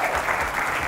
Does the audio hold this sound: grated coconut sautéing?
no